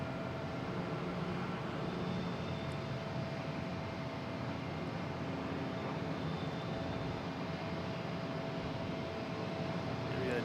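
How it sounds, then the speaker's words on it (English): A United Boeing 737 MAX 9 jet taking off at Boston Logan, a steady broad roar of engine noise heard from a distance, constant and unbroken throughout. "United taking off, heading to San Francisco."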